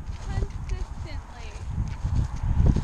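A very large horse walks nearby with irregular, muffled hoof thuds that grow heavier toward the end, set against background chatter and movement.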